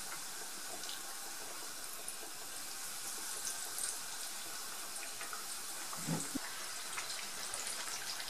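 Chicken wings fry in very hot oil in a pan, a dense, steady sizzle and crackle at moderate level, continuous with small pops.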